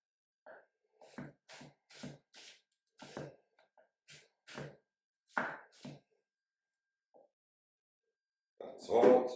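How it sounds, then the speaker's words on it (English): A knife chops ingredients for Norwegian fish soup on a board: a dozen or so sharp, close knocks in an irregular rhythm within a quiet kitchen, ending with a louder clattering burst. "I'm just going to do some chopping."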